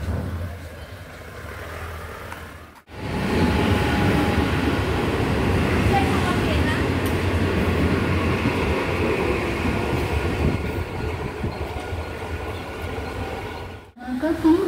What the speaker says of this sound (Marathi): विरार के लिए जलद लोकल प्लेटफॉर्म क्रमांक 3 पर आ रहे हैं.